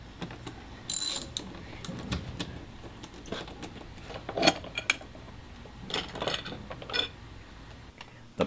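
A wrench loosening the four bolts that hold the passenger handles on a CBR250R motorcycle, giving quiet, scattered metallic ratchet clicks and clanks spread over several seconds.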